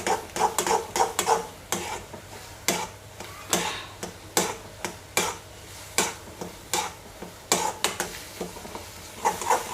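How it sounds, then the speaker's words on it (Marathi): Gram flour being stirred into boiling water in a pot for zhunka, heard as a close run of rhythmic scraping and tapping strokes, roughly two per second, over a faint bubbling background with no speech. "हे बघा, असं हलवत राहायचं आता।"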